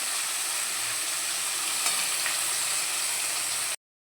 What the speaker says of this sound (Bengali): মাছটা পুরো লাল করে কড়া করে ভাজা হয়ে গেছে